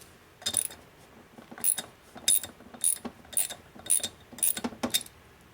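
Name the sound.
wrench pulling a cylinder stud on a 1952 Harley panhead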